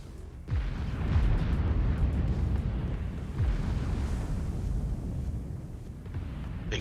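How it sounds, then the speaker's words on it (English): Torpedo ship fire in the space game Starbase: a rolling series of heavy booming blasts and deep rumbles that stay loud and dense throughout, with no talk. "a torpedo ship got intercepted, and at the same time a second one started shooting"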